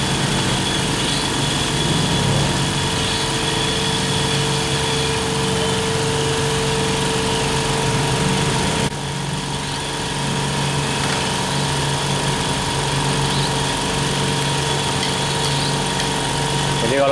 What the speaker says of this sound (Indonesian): Jadi kalau kompresornya 2 kompresor kita gabungkan, maka anginnya tidak akan tekor dengan menggunakan Magic F200 ini.